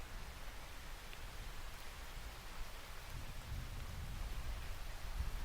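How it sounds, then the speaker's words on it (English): Rain blowing in through a window as the wind picks up, a faint, steady wash of hiss with low rumbling gusts that grow slightly toward the end, alone with no talk. "rain blows in from the window occasionally as the wind picks up"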